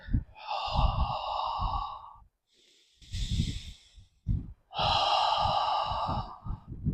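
Slow belly breathing: long, airy inhales and exhales alternating close to the microphone, each breath lasting about two seconds with short quiet gaps between.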